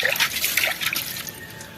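Water splashes and sloshes briefly, as if something is being rinsed by hand, then trails off into a soft trickle.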